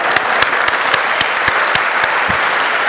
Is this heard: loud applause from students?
yes